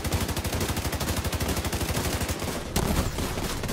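Sustained rapid automatic gunfire in a video game, a dense, steady rattle of shots, loud and continuous, with a brief break before it resumes.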